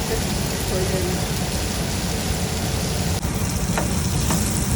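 Masala with tomatoes fries on a tawa for a kaleji fry, giving a steady, dense sizzle that runs unbroken and fairly loud. The texture changes slightly partway through, and there is no clear talk over it.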